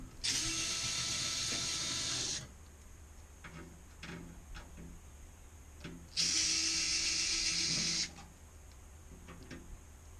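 Mechanical ratcheting as screws are backed out of the rear panel of a Mahlkonig GH2 coffee grinder: two long, loud bursts of dense clicking separated by quieter handling clatter.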